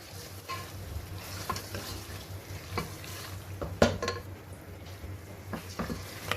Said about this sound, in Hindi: तो चलें अब इसको फिर से मिक्स करते हैं, भूनते हैं।